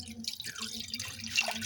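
Milk being poured into a pot holding a little water, a close trickling and splashing pour that changes pitch as it fills, with no talking.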